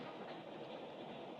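Steady rumble of a train rolling along the rails, a dense continuous roar with faint rhythmic clatter, heard from inside or nearby.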